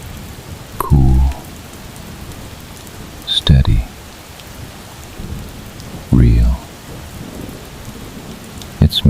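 Rain falls steadily while low thunder rumbles break through several times in short, heavy bursts, and a calm voice speaks softly over the storm.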